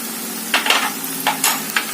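Coriander powder, turmeric and curry leaves fry in hot oil for an Andhra cucumber curry, giving a steady close sizzle broken by a few brief bursts of stirring and scraping in the pan.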